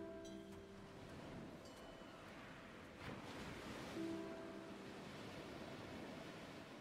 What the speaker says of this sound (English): Good water noises.